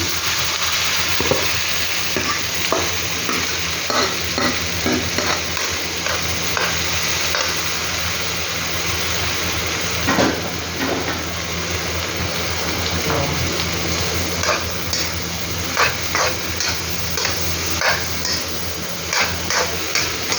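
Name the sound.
mung beans being sautéed and stirred in a pan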